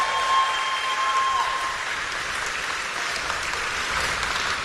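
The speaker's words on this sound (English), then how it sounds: "Give Bob a big round of applause." A rally crowd in Bethlehem, Pennsylvania claps and cheers for Bob Casey, a steady wash of applause at moderate distance with a faint tone ringing briefly at the start.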